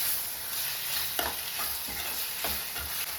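Tomatoes sizzle and fry in a pan for a chapathi side dish, with a steady hiss broken by several scraping stirs of a spoon against the pan.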